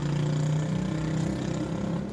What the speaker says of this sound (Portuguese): é que passou uma moto aqui